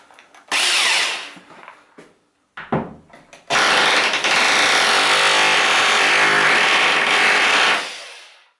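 A Hilti TE-6 SDS hammer drill bores into ceramic tile in hammer mode, with a couple of short starting bursts and then a long, loud, continuous rattling grind that winds down at the end.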